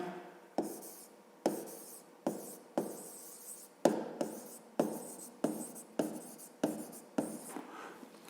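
Pen strokes of a math solution being written out by hand on paper for a fifth-grade exercise, a steady series of about a dozen close, distinct scratching strokes with short pauses, no talking.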